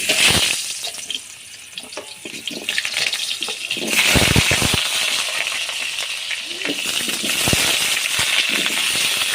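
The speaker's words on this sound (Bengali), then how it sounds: "তেল গরম হয়ে গেছে আমি আলু দিয়ে দিচ্ছি ভাজার জন্য" Potatoes sizzle and crackle loudly in hot oil, with a burst of spattering partway through and a steady frying hiss continuing after.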